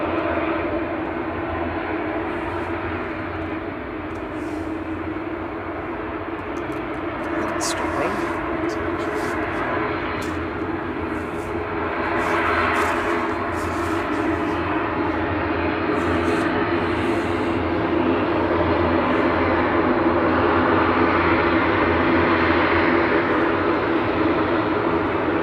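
A Loganair plane at Manchester Airport roars steadily in the middle distance, its engine noise rising slightly as it passes, with a voice talking over it at times.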